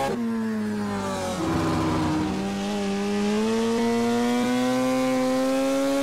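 Car engine held in second gear in the Argentine racing simulator Pista Motorsport, a steady droning tone that rises gradually in pitch with revs over several seconds, loud and continuous with no talk.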